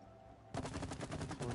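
Shooting in the co-op video game It Takes Two: a steady, rapid run of gunfire-like bursts starts abruptly after a quiet moment and continues loud and close to the end.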